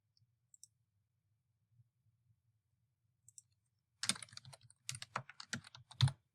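A form title typed on a computer keyboard: after a few scattered isolated taps, a close burst of rapid key clicks follows in quick uneven runs, crisp against near silence, no talk.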